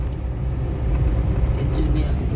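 A car drives home along a road, its steady low engine and tyre rumble filling the background, moderately loud and continuous, with faint talk underneath.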